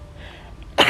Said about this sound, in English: I think I'm gonna sneeze.